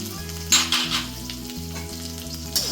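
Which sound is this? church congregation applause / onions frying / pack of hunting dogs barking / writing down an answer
onions frying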